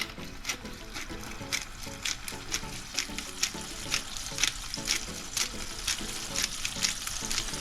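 A salmon fillet seasoned with salt and pepper sizzles in a hot pan, a steady crackling fry with small pops, fairly close and moderately quiet.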